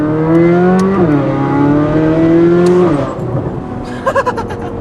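Corvette C8 Z06 fitted with a titanium exhaust revving loudly and close, its steady high-pitched howl rising and dipping before dropping off near the end into a few sharp pops and crackles.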